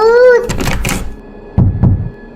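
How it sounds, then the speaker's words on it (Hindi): Someone bangs on a door at midnight: after a brief tonal cry and a burst of rough noise, two heavy, low thuds land close together, loud and near. "ये आधी रात को कौन दरवाजा बजा रहा है?"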